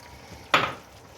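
Half a cup of oil added to turnip chicken (shalgam chicken gosht) in a hot pan sets off a sudden, loud sizzling burst that fades within a fraction of a second.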